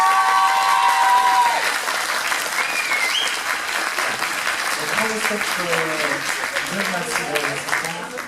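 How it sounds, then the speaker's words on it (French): Audience clapping at a cosplay parade in Dijon, a dense, steady wave of applause throughout with a voice talking over it and crowd noise beneath. "Voilà, on peut l'applaudir."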